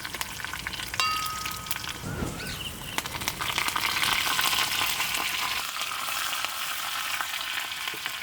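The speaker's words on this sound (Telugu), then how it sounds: "ఇప్పుడు ఎండుమిర్చి వేసుకుని కరివేపాకు కూడా వేసుకుందామండి" Dried red chillies and curry leaves fry in hot oil for a tempering that already holds mustard seeds and cumin. A sharp hiss bursts up as they go in, then settles into a steady, close crackling sizzle.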